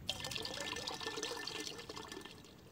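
Water splashes and gurgles as a bucket is filled in the survival video game Raft, a continuous busy liquid rush with small bubbling bursts throughout, fairly close.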